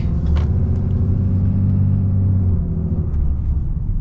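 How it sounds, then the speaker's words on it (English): A 2024 Ram HD pickup truck's engine rumbles steadily and loud while driving, a smooth low drone that holds for the whole stretch. "Got a nice rumbly sound to it"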